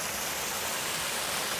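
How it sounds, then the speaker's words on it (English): Water runs steadily along a small stream that feeds a waterfall, a continuous broad rushing wash with no voices over it. "This is like a tributary to the waterfall that we were on earlier on."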